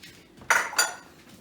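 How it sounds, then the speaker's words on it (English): Metal patty pans clatter as they are shifted on a kitchen bench, two quick bright clinks close together, nearby and fairly loud, with no talking. "Now, I'm just going to move my patty pans over here."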